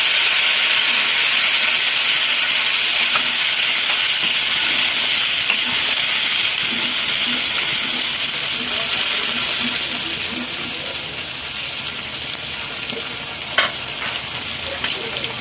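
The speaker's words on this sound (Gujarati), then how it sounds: "હવે એમાં જે ગ્રેવી બનાવી હતી એ આપણે એડ કરીશું." Gravy going into a pan of sizzling kadai paneer gives a loud, steady frying hiss with stirring throughout, easing slightly toward the end.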